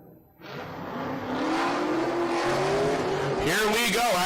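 An LS-swapped Nissan 350Z drift car launches from the gate at a pro-am drift qualifying event, its engine revving up into a rising, sustained roar with tire squeal, mixed with a commentator's voice.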